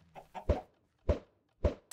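Three short clucking bursts from a chicken hatched out of a thrown egg in Minecraft, close and clear, with no speech.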